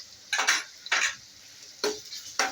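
A spoon scrapes and stirs onion with ginger garlic paste in a pan for Kolhapuri chicken, four short, distinct strokes spaced apart, close and fairly quiet with no talking.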